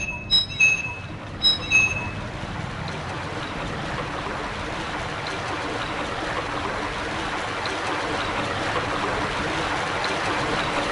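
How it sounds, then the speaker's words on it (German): Steady rushing water from an opened drain valve in the PS1 game Silent Hill, a continuous broadband flow that holds for the whole stretch, with a few brief high chirps near the start and no talk. "Das Wasser fließt in das falsche Loch."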